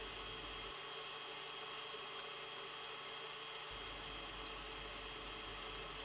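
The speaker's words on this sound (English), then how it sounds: "And start whisking." Egg whites with a pinch of salt and granulated sugar being whipped to stiff peaks for coconut meringue cookies, a steady continuous electric mixer whir that runs loud and unbroken throughout.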